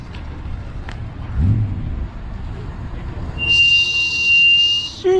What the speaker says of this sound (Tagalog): Yun lang, maingay ang preno.